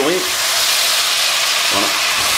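Pieces of veal tendron and lardons brown in a hot pan with a steady, loud sizzle and hiss close to the mic, while a voice speaks briefly over the frying.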